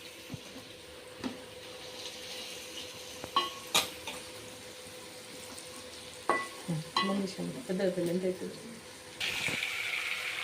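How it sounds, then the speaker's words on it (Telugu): Fish pieces stirred into masala frying in a pan, a quiet sizzle under scattered knocks and scrapes of a utensil, with a louder burst of sizzling near the end. "చూడండి ఇప్పుడు చేపలు ఇట్లా కలుపుకుందాము"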